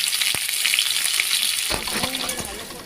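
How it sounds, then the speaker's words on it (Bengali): Potatoes frying in hot oil with salt give a loud, close, continuous sizzle, with a few stirring scrapes and clinks toward the end and no voices. "এবার আমি আলু ভাজাগুলো করে নিচ্ছি"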